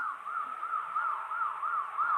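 Police car siren in a Bangladeshi bus simulator game, wailing steadily in a repeated rising-falling pattern, loud and continuous with no talk.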